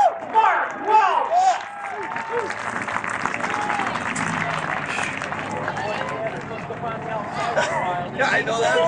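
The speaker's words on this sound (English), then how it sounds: "Give him a nice round of applause." A crowd at a speedway feature race applauds and cheers continuously for a driver climbing out of his car, a dense wash of clapping and babble with an announcer's voice over it.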